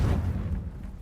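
A deep booming rumble from a Confringo spell blast in Hogwarts Legacy rolls out loud at first and then thins away within a second.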